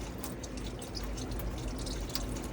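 Water runs from the cold kitchen tap of an Autocruise Starfire motorhome under good pressure, a steady close splashing hiss with small spluttering bursts of air, heard alone.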